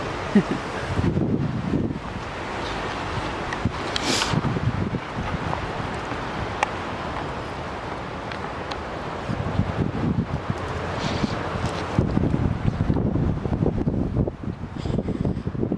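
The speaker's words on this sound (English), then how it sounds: "Wow, the wind." Wind gusts blow across the microphone outdoors in an Anglican church cemetery. The roar is broad and continuous, with swelling surges and a faint rustle underneath, and no speech.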